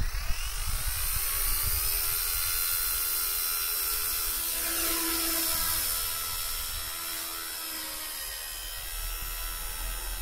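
A K124 RC helicopter's electric motor spins up for takeoff, a steady high whine and whir holding for about ten seconds, close and fairly loud with no talking.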